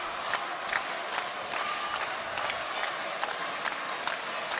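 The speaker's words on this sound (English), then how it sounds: "the crowd just starts to pick up once more" Crowd at a junior 66kg boxing final of the EUBC tournament in Tbilisi gives a steady, fairly loud roar, broken by scattered sharp shouts and bursts of cheering that swell slightly over a few seconds.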